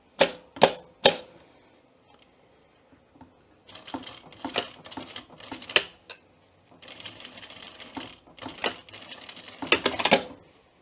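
A sewing machine stitches around the rectangle of a welt pocket in short, close bursts, pausing between runs, with no talk.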